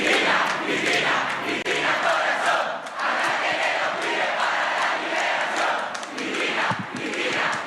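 A large crowd at a political rally in Argentina cheers and chants continuously, a dense and loud roar with rising shouts throughout.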